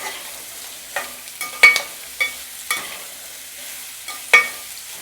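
Ginger frying in sesame oil for thokku, with a soft low sizzle broken by about six sharp spatula scrapes and taps against the pan, close and clear, no talk.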